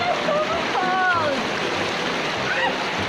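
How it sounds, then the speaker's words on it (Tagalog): Water splashing and rushing as people wade across a shallow creek on foot, a steady wash of flowing water with a few bird chirps and no clear talk. "kailangan namin tumawid, tumawid dito sa sapa nila"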